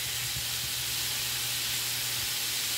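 Smoked turkey sausage sautés in a pot with a steady, even hiss of sizzling and steam, low and continuous with no distinct pops and no talk.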